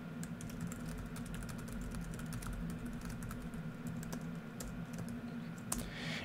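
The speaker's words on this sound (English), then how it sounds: "if you find that I'm typing too fast for you, pause the video" Steady, rapid typing on a computer keyboard while writing a Neverwinter Nights script, with dense continuous key clatter throughout over a low background hum, no voice.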